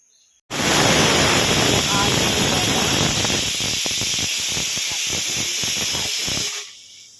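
A pressure cooker holding green gram, horse gram and vegetable sambar releases a loud, steady rush of hissing steam for about six seconds before cutting off abruptly.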